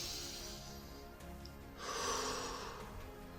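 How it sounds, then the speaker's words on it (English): A deep breath is heard up close: a nasal inhale through the nose followed by a longer, louder whooshing exhale through the mouth, with no talking. "inhale through the nose and exhale through the mouth,"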